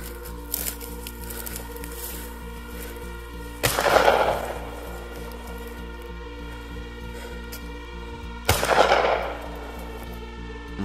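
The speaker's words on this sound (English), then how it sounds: "A man records a close encounter with a mountain lion and has to resort to gunshots in order to scare it off." Two gunshots are fired outdoors to scare off a mountain lion, each a sharp crack followed by a rolling echo, spaced about five seconds apart over a constant insect-like buzz.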